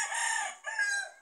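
A rooster crows close by, one loud, drawn-out cock-a-doodle-doo in two quick parts, standing clearly alone.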